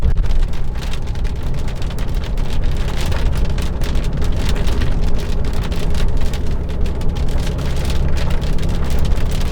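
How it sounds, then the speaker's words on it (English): Heavy rain from a squall line thunderstorm pounds steadily on a car, a loud dense drumming roar that holds throughout with no pauses and no talking. "there's a big storm coming right down on us right here."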